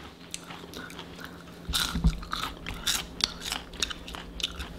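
Close crunching bites and chewing of a double cheeseburger with wagyu beef, a run of crisp, irregular crackles and munches that start loud and continue at a steady pace, with no talk.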